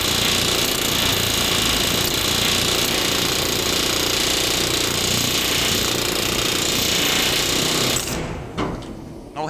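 A loud, continuous pneumatic air hammer riveting a ship rattles steadily for about eight seconds, then cuts off abruptly, leaving quieter clanks and background noise.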